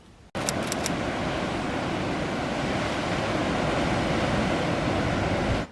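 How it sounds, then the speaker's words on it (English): Atlantic ocean waves break on an Irish beach in a loud, steady, unbroken roar of surf, with wind buffeting the microphone and no voices. "The waves are fantastic here"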